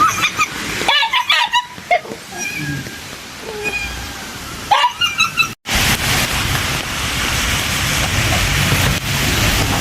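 Stray dog puppies whimper in thin, high, wavering cries that come in short bursts. A steady broad rushing noise takes over for the second half; no clear barking stands out.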